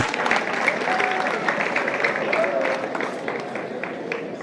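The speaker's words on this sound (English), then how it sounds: "So please clap for yourselves." An assembled audience at a public address claps for itself, a fairly loud spread of many hands with a faint murmur of voices underneath, easing off slightly toward the end.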